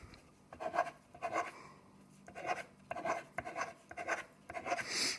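A pen or pencil drawing groups on paper for a multiplication lesson, heard as several close, rhythmic scratching strokes separated by short pauses.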